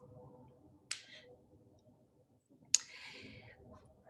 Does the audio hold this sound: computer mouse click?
yes